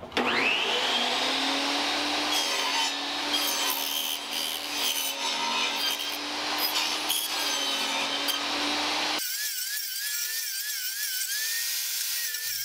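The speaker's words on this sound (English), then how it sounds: "I lower the table saw blade to a quarter inch to remove material." A table saw with its blade lowered to a quarter inch whines steadily while cutting a thin taper in wood for a pizza peel, a loud rasping drone that cuts off abruptly near the end.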